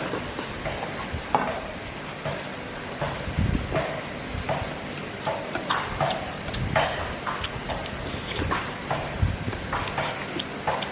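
Insects chirr steadily outdoors in a continuous high-pitched drone that holds for the whole stretch, with soft scattered knocks and rustles close by.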